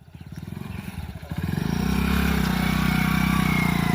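A motorcycle engine running nearby, first a rapid idling putter that swells into a louder, steady revving drone.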